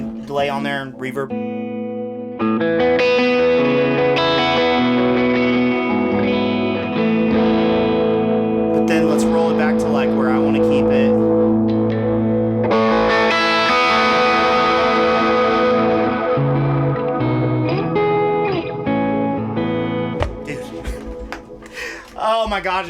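Electric guitar played through drive with spacious delay repeats and reverb, sustained chords and melodic lines ringing steadily throughout.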